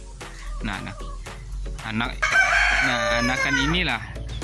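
A rooster crows loudly and close among a small flock of one rooster and five hens, with clucking from the hens and someone talking over the birds.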